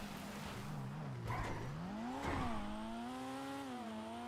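A Toyota Supra–styled car (Dinka Jester) in GTA 5 Online revs and accelerates, the engine tone sliding down then climbing through gear changes, with a tire-squeal burst midway, steady and close.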